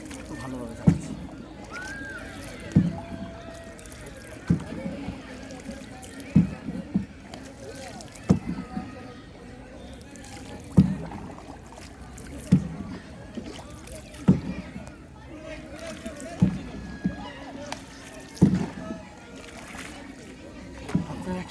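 A man rows a wooden rowboat on a river, with oars dipping in a regular rhythm of knocks and splashes roughly every two seconds, close by, over faint wind and occasional talk.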